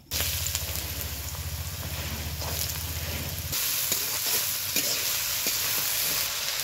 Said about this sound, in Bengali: এইখানে কেটে রেখেছি ঝুরি ঝুরি করে আলুটা তেলে দিয়ে দিব।